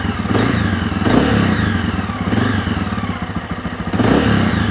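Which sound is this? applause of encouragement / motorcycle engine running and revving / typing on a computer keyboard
motorcycle engine running and revving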